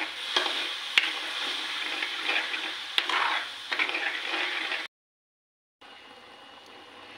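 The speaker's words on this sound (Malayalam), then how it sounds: "നമുക്ക് ഇനി ശർക്കര പാനി ഒഴിച്ചു കൊടുക്കാം" Jaggery syrup is poured into jackfruit seed payasam cooking in a pan, giving a steady close hiss and sizzle with a few scraping stirs. The sound cuts out for about a second, then resumes.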